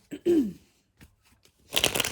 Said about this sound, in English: I'm going to give it another good shuffle.